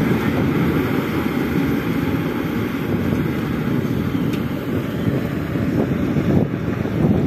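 A John Deere 5310 tractor engine drives a threshing machine in a steady, dense, loud roar that holds without a break throughout, with no voices.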